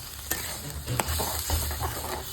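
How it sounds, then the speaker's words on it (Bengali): Water poured into a pan of frying curry masala for a yellow rice and egg curry, a steady sizzle and bubbling hiss with a few sharp spits and clinks. "বন্ধুরা কষানো হয়ে গেছে, এবার আমার বৌমা জল ঢাইলা দিব। এই দেখো জল ঢাইলা দিল।"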